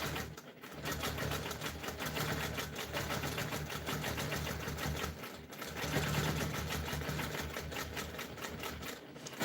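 A sewing machine stitches in the ditch along the seams of a quilt, a close, steady run of rapid mechanical needle strokes that continues almost without pause, with only a brief break near the start and another near the middle.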